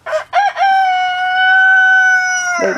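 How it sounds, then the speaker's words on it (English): A rooster crows loudly and close by, a couple of short rising notes leading into one long sustained call that breaks off at the end. "the chicks will eventually go into this pen and be these chickens"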